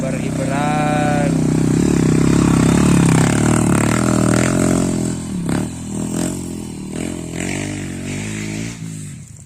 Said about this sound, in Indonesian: Inilah dia lur, Bagodeg yang sedang menanjak.